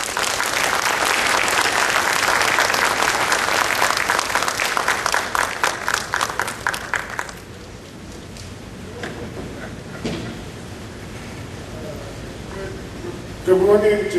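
A seminar audience gives loud applause to welcome the Governor of the Central Bank of Trinidad and Tobago. Dense clapping fills the first half, thins out and fades, then a voice begins speaking near the end.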